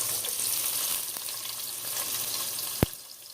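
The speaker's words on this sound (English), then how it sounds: "And once that's already hot in there, so now I'm gonna add my onions." Onions frying in hot coconut oil while cooking callaloo give off a steady, close, hissing sizzle. A single sharp utensil clack sounds near the end, and no one speaks.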